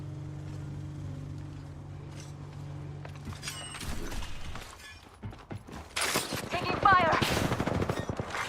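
Gunfire in a video game shooter, with bursts of automatic fire and scattered shots building louder in the second half, layered over mechanical game effects and a low hum early on.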